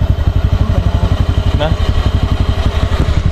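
A motorcycle engine idles nearby while it is being parked, a loud, steady, pulsing thump repeating rapidly throughout, with a voice speaking briefly over it.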